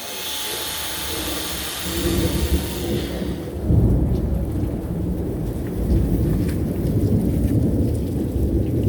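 Rain pours steadily outdoors while thunder rolls in and rumbles loudly through the middle of the stretch, blending into a dense, continuous roar with no voices.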